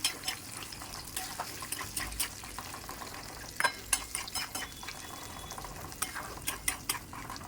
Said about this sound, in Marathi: ही अंडी आपण घालूयात आणि ही अंडी आपल्याला अशी स्मॅश करून घ्यायची.